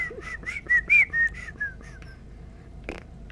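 A person whistles a short tune of several bright, sliding notes, then stops; quiet background hum follows with a brief thump near the end.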